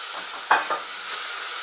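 Taro stolons dropped into a small amount of oil with ginger paste, giving a brief close sizzle and stir burst of two quick hits over a steady low hiss of frying.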